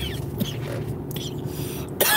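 A person coughing during a live stream after a drink goes down the wrong pipe, producing a few short harsh coughs close to the microphone in an otherwise quiet room.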